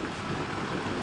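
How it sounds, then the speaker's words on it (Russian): Strong wind in Yeysk on the Kuban coast during rain and snow blasts loudly and steadily across the microphone as a dense, unbroken rushing roar. "Сильный ветер."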